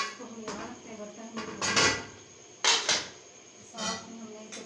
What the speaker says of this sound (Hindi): तो हम यहाँ रखते हैं बर्तन